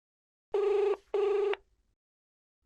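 A phone call's ringback tone sounds twice, two loud buzzing rings of about half a second each separated by a short gap, followed by silence.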